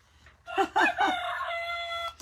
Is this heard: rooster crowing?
yes